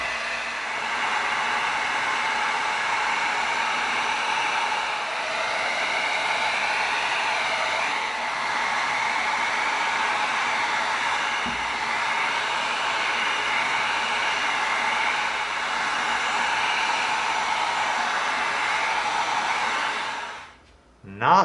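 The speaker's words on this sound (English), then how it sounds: "Let's go ahead and seal this whole thing with some heat." A heat gun blows continuously while sealing EVA foam on a carbine prop, a steady, close, hair-dryer-like rushing hiss that holds for about twenty seconds before cutting off.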